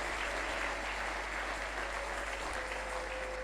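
A church congregation claps steadily and loudly throughout, forming a dense, continuous wash of applause from a large crowd indoors.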